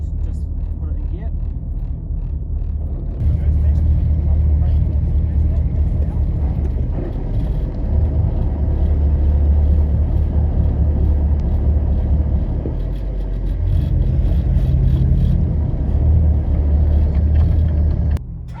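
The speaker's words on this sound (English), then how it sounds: "Sophia, we go starboard ahead, just put it in gear" A boat engine running after being put in gear: a steady low rumbling drone grows a little louder after a few seconds and holds, with faint clunks and shifts along the way, while people talk over it.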